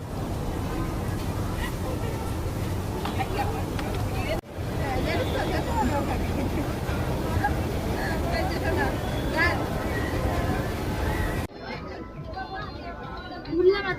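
Crowd hubbub fills the City Centre 1 shopping mall in Salt Lake, a steady dense babble of many voices that drops to a thinner murmur near the end.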